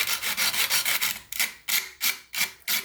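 Sandpaper rubs back and forth along the rough machine-cut edge of a Lenox Gold whittling knife blade, a steady series of close, raspy strokes about every third of a second with no talk.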